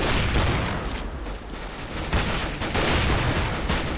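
Rapid gunfire in Counter-Strike: Global Offensive, dense overlapping shots in bursts with a brief lull near the middle, loud and close.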